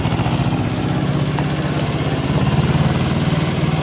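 A farm tractor's engine runs steadily nearby in a village setting, a continuous low throbbing chug with a regular pulse, loud and alone with no talking.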